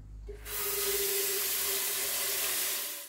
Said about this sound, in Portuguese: vamos encher um pouquinho de água isso aqui.